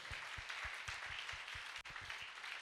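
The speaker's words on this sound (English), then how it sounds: "Let's clap for those men." A church congregation clapping for the men who teach Sunday school, a fairly quiet, even patter of many hands at moderate distance with no speech over it.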